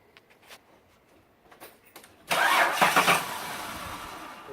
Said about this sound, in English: you just find the keys and turn the engine over